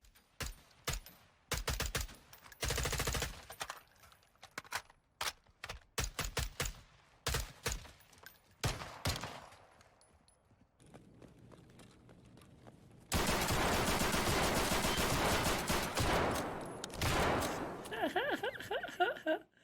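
Full-auto rifle fire in the shooter Escape from Tarkov, short clipped bursts and single cracks in a rough rhythm, then a long sustained volley near the end, heard alongside speech.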